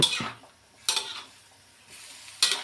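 A utensil stirs and scrapes American-style fried rice in a pan, three separate bursts of metallic scraping and shuffling with quiet gaps between, close up and with no talk over it.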